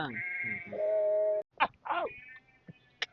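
Several sheep bleat close by on a village farm, long wavering cries followed by shorter calls, with brief pauses between them.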